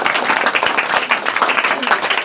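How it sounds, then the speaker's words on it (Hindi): A classroom of children applauds a boy student during a number-system quiz, bursting into a dense, lively round of clapping that carries on steadily throughout. "इस लड़के के लिए भी ताली बजाओ"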